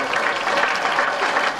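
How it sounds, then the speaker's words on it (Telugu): Steady applause from an audience at a village felicitation ceremony, many hands clapping continuously and fairly loud for the whole stretch with no break. "అందరూ కూడా చప్పట్లు ఆగద్దు."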